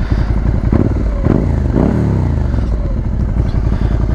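A 2019 Suzuki SV650X motorcycle with a Yoshimura aftermarket exhaust idles and revs close by with a deep, throaty exhaust note and a couple of quick throttle blips.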